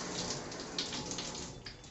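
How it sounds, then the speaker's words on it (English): Water from a shower runs steadily during a cold rinse, a continuous hissing spray that is fairly close and even, with no talking. "Nice, refreshing shower."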